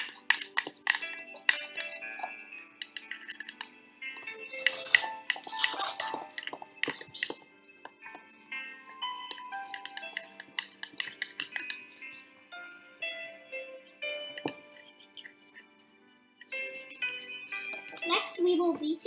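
A spoon stirring mug cake batter with vanilla extract, with repeated clinks and scrapes against the mug in an irregular rhythm, loud and close, while a person talks intermittently.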